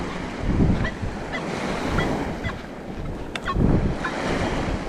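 Ocean waves washing onto a Long Island beach in winter, surges of surf rising and falling twice amid steady wind noise on the microphone, fairly close and loud, no talk.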